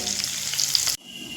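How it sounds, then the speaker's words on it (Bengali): Salted, turmeric-dusted potatoes fry in oil in a pan over a medium flame, giving a loud, close, continuous sizzle that cuts off abruptly near the end, leaving a quieter hiss. "আলু তো ভাজা হচ্ছে"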